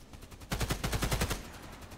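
Gunfire in an SKS sniper video game, a quick burst of about eight rapid shots over under a second, moderately loud, with no talking.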